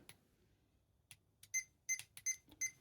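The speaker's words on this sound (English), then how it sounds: "that constant beeping is a sign that it is in calibration mode" A Hobbywing QuicRun WP 1080 G2 brushed ESC in calibration mode gives a run of short electronic beeps, at first sparse and then a quicker cluster of about five tones, with clicks between them and no talking.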